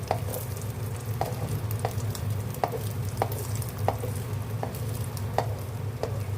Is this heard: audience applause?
no